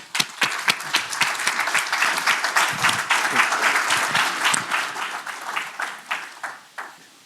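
An audience claps and applauds to welcome a speaker at a talk on foreign aid and global poverty. The applause swells quickly, holds loud and dense, then thins to a few scattered claps near the end.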